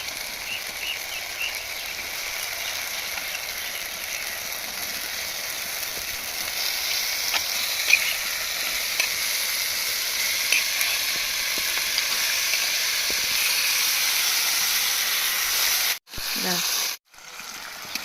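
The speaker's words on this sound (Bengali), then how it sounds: "এখন আমি মাংসটা একটু কষে নিচ্ছি" Duck meat sizzles and fries steadily in a pan for a village-style duck curry, a continuous crackling hiss with occasional stirring, briefly cut off twice near the end.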